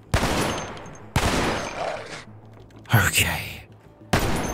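Bursts of gunfire from a malfunctioning gun in Cataclysm: Dark Days Ahead, several loud broadband volleys separated by short gaps, with a brief spoken word in between.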